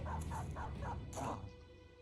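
Dog in the video game Battle Brothers gives a series of about five quick barks and yips in a row, then a longer whimpering bark, close and moderately loud, with no talking.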